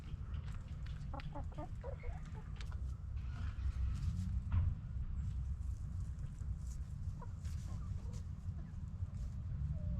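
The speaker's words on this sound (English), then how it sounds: "Hi, handsome rooster." Chickens and a rooster cluck in a backyard chicken yard, soft scattered clucks and short calls over a low, steady background, fairly faint and with no talking.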